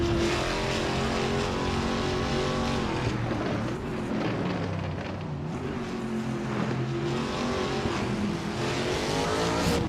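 Chevrolet Camaro race car in a racing video game, its engine revving and shifting in rising and falling sweeps with occasional tire squeal, loud and close for the whole stretch.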